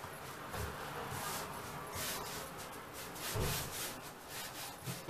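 A rolling pin rubs and scrapes over cheese börek dough on a work surface, a soft, repeated sweeping friction in uneven strokes, quiet and close with no talk.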